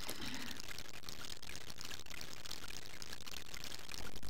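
Steady, full-bodied rush of water being poured or drawn from a well in the Kajko i Kokosz game, continuous and close for a few seconds without pause.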